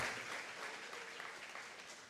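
A church congregation applauds during a sermon, a soft, distant wash of clapping that holds evenly for about two seconds.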